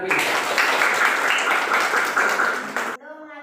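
Classroom applause from a group of students, a dense, steady burst of many hands clapping together for about three seconds before it cuts off abruptly.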